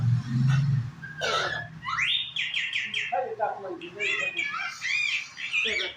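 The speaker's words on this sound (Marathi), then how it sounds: "इकडे आहे मैना" Myna birds call with a run of squawks, whistles and chirps, loud and close, with a low voice talking briefly at the start.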